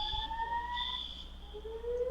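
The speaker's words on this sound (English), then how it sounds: "Oh, an alarm test." An electronic alarm sounds during a test, a sustained wailing tone that sweeps slowly up and down in pitch with steady, fairly loud siren-like warbling and no talking.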